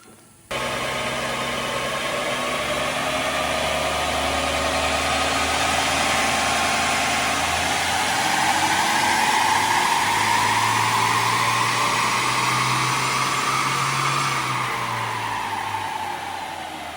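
A car engine runs on a dyno, starting abruptly and holding a loud, steady mechanical roar with a whining overtone that climbs gradually in pitch before easing and fading slightly near the end.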